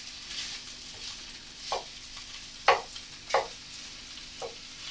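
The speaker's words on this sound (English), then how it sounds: "when we're frying green cabbage, we call it frying" Green cabbage and Cumberland sausages fry in a pan, a soft steady sizzle broken by a few brief scraping stirs spaced a second or so apart, no voices.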